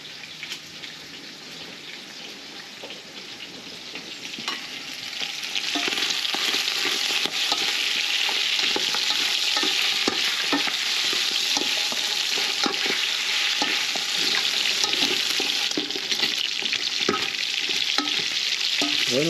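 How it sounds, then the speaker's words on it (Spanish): Chickpea stew ingredients with chopped plantain and red wine browning in a pan, a steady dense sizzle and crackle that grows louder after a few seconds and keeps going with occasional stirring scrapes. "aquí va el proceso de dorado"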